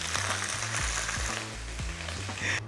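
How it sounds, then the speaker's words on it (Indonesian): Anchovies frying in a wok, a steady close sizzle and crackle of hot oil with repeated low scraping thumps of stirring, no voices. "jadi gua pengen goreng teri dulu"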